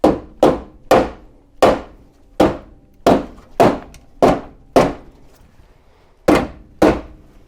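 Sharp hammer taps drive a part into a C3 Corvette radiator core support: about a dozen close, solid knocks in an uneven rhythm, each ringing briefly before the next, with no talking.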